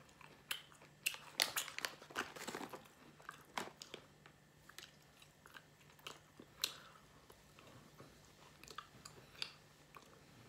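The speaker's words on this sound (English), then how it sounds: "Well, it is a jerky, so it's got to take a bit to chew." Someone chewing smoked shiitake mushroom jerky up close, with bites and crunchy chews that are irregular and heaviest early on, then softer intermittent chewing over quiet room noise, with no talking.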